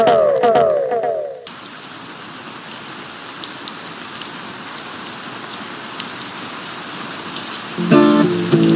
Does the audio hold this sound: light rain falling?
yes